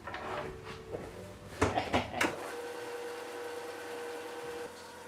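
A belt sander grinds down an assembled epoxy puzzle, a steady motor drone punctuated early by a few knocks and clunks as the piece is handled.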